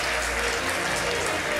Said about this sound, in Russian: Хлопайте, хлопайте.